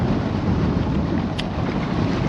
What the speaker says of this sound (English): it's windier than I've ever seen before out here